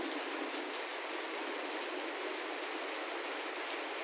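Steady rainfall continuing outdoors after a strong windstorm has passed, a dense, even hiss of drops with no pauses or voices.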